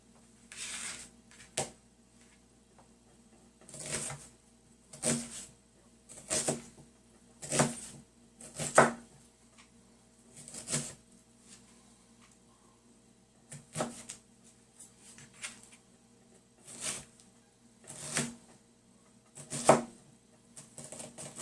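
Knife chopping onions on a board, with crisp separate cuts coming in short bursts and pauses between them, close and fairly quiet, with no talking.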